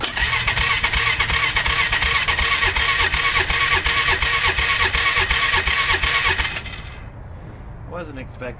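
A 1995 Polaris Magnum 425 ATV engine cranking in a fast, steady, loud rhythmic churn for about six seconds, then cutting out abruptly to quiet, with a voice speaking afterward.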